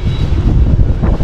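Strong wind blasting steadily across an outdoor microphone, a dense low rumble with gusty swells that stays loud throughout, with no voices.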